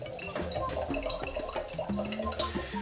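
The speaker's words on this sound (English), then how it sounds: "Let the water come out. We'll go ahead and let that drain for a little bit." Coconut water drains out of holes drilled into a whole coconut, trickling and dripping steadily in a close, continuous flow with small splashes and no voices.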